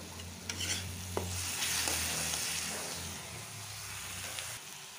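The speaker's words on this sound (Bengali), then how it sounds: "এখন আমি একটু ধনিয়া পাতাটাও একটু সাঁতরিয়ে নেব।" Coriander leaves sauté in oil in a pan for a boal fish curry with tomato, onion and chilli, making a soft continuous sizzle with a few stirring scrapes.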